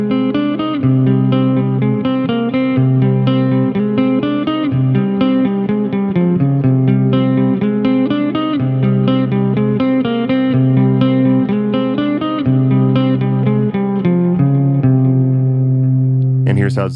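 A clean electric guitar played through a Nux B-5RC wireless system plays sustained chords and picked notes, steady and full throughout, ending with a short bright noise at the very end.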